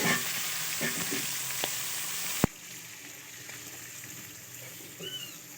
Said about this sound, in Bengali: এক পিঠ করে ভেজে উল্টে দিলাম